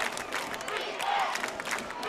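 A crowd roars at a Friday night high school football game between Exeter and Berks Catholic at the Farina Sports Complex, late in the fourth quarter. Steady, moderately distant cheering and yelling rise and fall.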